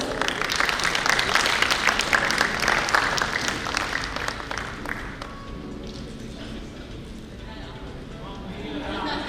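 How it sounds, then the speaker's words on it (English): Audience applause for the winners at a national convention valedictory session, dense loud clapping for about five seconds that thins and fades, then a voice speaks. "Can we have a round of applause for all the winners?"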